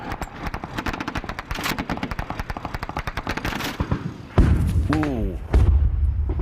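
Rapid bursts of gunfire from British 2 Scots soldiers with Mastiff vehicles giving fire support during fighting in Afghanistan, a long run of close, sharp repeated shots, then heavy thuds and voices calling out.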